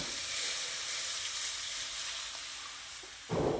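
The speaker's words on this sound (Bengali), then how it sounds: "এবার এর মধ্যে এক কাপ মতো গরম জল অ্যাড করে দিচ্ছি" Hot water poured into a pan of potatoes frying with spices makes a loud, steady hiss and sizzle that holds for several seconds, then ends in a sharp splash or scrape.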